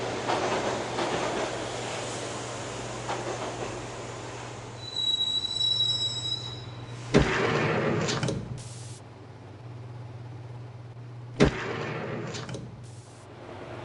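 Train ride in the Max Payne Mobile video game: a steady low rumble of rolling wheels under a shrill wheel squeal, with two sharp, loud clanking jolts as the carriage rattles along alone.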